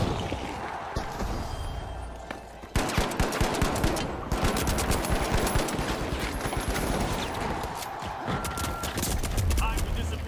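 Rapid turret gunfire rattles in the shooter game THE FINALS, loud bursts of shots that grow denser and continue almost nonstop, with a brief lull before a heavier barrage.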